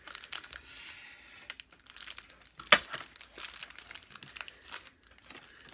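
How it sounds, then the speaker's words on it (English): Plastic packaging around a small Re-ment miniature toy set being cut open, with soft crinkling and rustling throughout and one brief sharp snip or crack midway, close and fairly quiet. "I'm just going to cut all the way down here"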